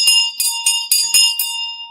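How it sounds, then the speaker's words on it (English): A large brass bell with a tree-shaped handle, about 8 to 10 inches across like a school bell, rung in six quick clanging strikes with a bright, ringing sustain, close and loud, with no talk. "Look at this brass bell."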